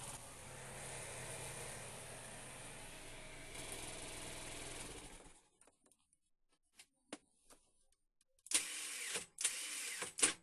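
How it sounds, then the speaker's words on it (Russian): A small scooter engine, started on the electric starter after a weak-spark cold-start fault, runs steadily for about five seconds with a rough, even drone, then cuts out, leaving scattered clicks and handling noises. "О чудо! Скутер запустился со стартера."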